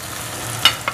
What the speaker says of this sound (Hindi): आलुओं को भूनने के बाद इसमें हम डाल देंगे वड़ियाँ भी साथ ही